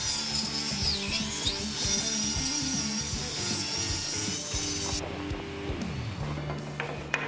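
Walnut table legs are cut with a power saw in a woodworking shop, a steady high whine with shifting pitch as the blade bites the wood, then tapering off near the end, close and alone.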